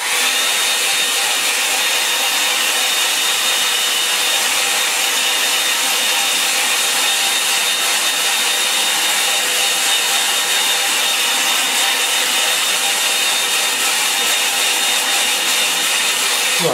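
A hair dryer blows steadily on a wet landscape painting of a Cornish moor, a loud continuous whoosh with a motor whine that runs unbroken for the whole stretch, no voices.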